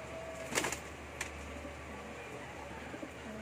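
Racing pigeons in a loft give soft, low cooing under a faint steady background hum, with a couple of brief flutters or scuffs early on, close but quiet.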